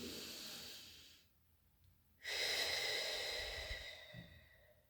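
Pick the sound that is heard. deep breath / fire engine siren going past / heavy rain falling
deep breath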